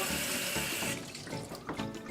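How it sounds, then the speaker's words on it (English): Tap water runs steadily into a kitchen sink while hands are rinsed beneath it, a close broadband rush that breaks into splashy, uneven gurgles as the hands move through the stream. "I'm gonna wash my hands here"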